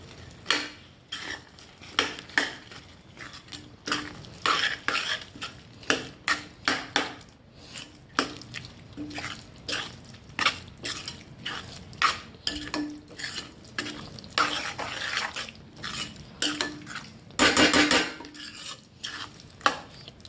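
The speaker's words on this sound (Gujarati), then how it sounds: "તો આપણે નાખી દઈશું આની અંદર અને મસ્ત મજાનું હલાવી દઈશું" A spoon stirs paneer into spinach curry in a pan, making repeated close scraping and clattering strokes in an uneven rhythm with a faint sizzle underneath and a brief flurry of quick strokes near the end.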